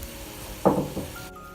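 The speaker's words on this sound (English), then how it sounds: "our butter is melting nicely, so we're just going to add all these onions" Onions tipped into melted butter in a pan catch with a sudden sharp sizzle that flares up loud, then settles into a softer crackle within a second.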